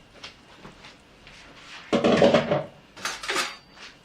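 Chicken noodle soup stirred briefly in a pot, with a few soft clinks followed by a louder burst of utensil scraping and clatter against the pot, then short knocks, close and alone.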